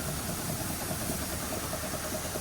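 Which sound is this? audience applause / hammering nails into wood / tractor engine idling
tractor engine idling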